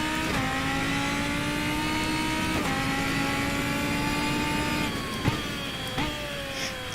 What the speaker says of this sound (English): Hockenheim in a GT3 car for absolutely no reason.